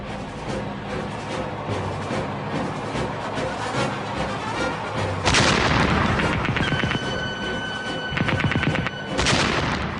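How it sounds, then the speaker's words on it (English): A World War I German A7V tank opens fire in a battlefield scene, with loud, continuous gunfire and heavy booms layered over a constant rumbling din, swelling in sharper bursts toward the end. "Finally, they spotted the enemy, halted, and opened fire."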